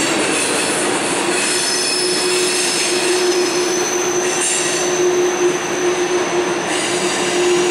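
A CSX freight train led by an ST70AH locomotive rolls across the stone Thomas Viaduct. Its steady rumble carries throughout, with a sustained wheel squeal and metallic ringing tones and no talk.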